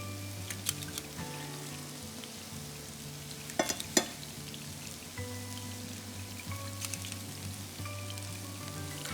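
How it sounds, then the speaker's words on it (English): Turkey meatballs fry in a pan, giving a steady close sizzle with scattered pops and a couple of sharper clicks near the middle, with no one talking. "I will eventually get all of this in here. So all of our meatballs are gonna cook at one time."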